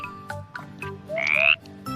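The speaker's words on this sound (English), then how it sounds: "F for frog." Frog croaking once, a short buzzy rasping call heard close and clear after a few faint clicks, with no talk.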